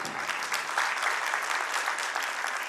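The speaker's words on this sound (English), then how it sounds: "Let's clap for this wonderful achievement." An audience at a school annual function, Stanford Global Academy in Ramnagar, claps for an achievement, a sustained, dense round of applause at steady volume throughout.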